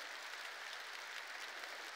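Church congregation applauding, a steady, even wash of many hands clapping together, fairly distant and continuous throughout with no voices standing out.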